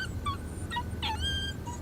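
A dog gives short high whimpers and yips, faint and intermittent, over a low steady background hum.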